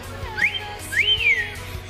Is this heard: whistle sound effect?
yes